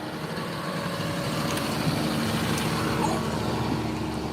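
A JCB tractor engine idling on a cattle farm, a steady low rumble with a faint hiss above it, held close and constant with no talking.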